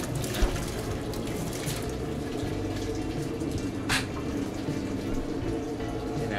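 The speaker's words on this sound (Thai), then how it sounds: "ใช้น้ำนี้ลาดเข้าไปอีกที ลาดสูงๆนะครับเพื่อให้มันมีความแรงเหมือนเราสาดลงไปตรงนั้นน่ะ" Water poured from high onto a fryer to rinse off black residue makes a steady, loud, continuous splash and rush that hardly changes throughout.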